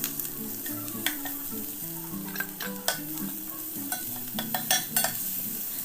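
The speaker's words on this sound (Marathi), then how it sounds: "हे पण कमी गॅस फ्लेमवर चांगलं परतून घेऊ" Onion, curry leaves and ginger-garlic paste sauté in a pan over a low flame, a soft continuous sizzle broken by irregular scraping and tapping from the stirring spoon, close up with no talking.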